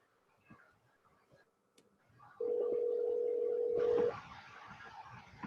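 A telephone sounds during an online class, a steady, loud electronic tone held for about two seconds after faint ticking, followed by a hiss of line noise.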